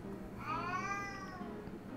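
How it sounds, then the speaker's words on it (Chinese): A Siamese cat in the Minecraft video game gives a single drawn-out, rising and falling meow, clear and fairly quiet over a faint background hum. "这只是暹罗猫"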